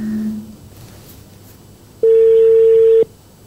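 A telephone call goes unanswered, heard as a brief tone near the start, a quiet gap, then one loud, steady ringback tone lasting about a second, alone with no talk.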